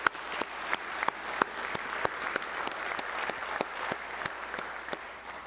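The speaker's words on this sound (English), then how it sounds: "Let's give him a round of applause." A football ceremony audience gives a steady round of applause, a sustained wash of many hands clapping at moderate distance, with a few sharper individual claps standing out.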